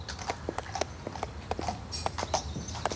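Horses walking on a hard surface, their hooves clip-clopping in a fairly regular rhythm, close and clear with no voices over them.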